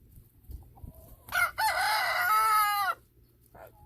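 A rooster crows loudly once, a long strained cock-a-doodle-doo, with faint clucking and farmyard quiet before and after.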